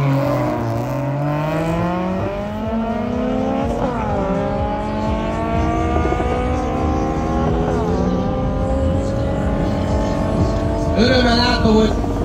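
A Volkswagen Golf 3 with a 2.8–2.9 litre V6 engine racing a Honda Civic in a quarter-mile drag race, loud engine revving up through several rising gear sweeps with shift drops, steady and close throughout.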